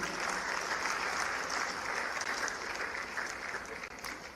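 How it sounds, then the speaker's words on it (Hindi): Sustained, dense applause from an audience honoring award recipients at a sports felicitation ceremony, steady and full throughout before easing slightly near the end. "एक बार पूरे सभी आज गौरवान्वित होने वाले सारे अपने भाई बहनों के लिए जोरदार तालियां बजाएं"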